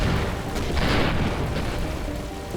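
Spaceship weapons blasting in the space game Avorion: a deep booming burst swelling through the stretch, loud and rumbling, with almost no talk.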